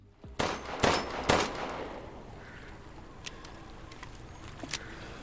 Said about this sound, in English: here is how Ethan reloads the pistol in Resident Evil Village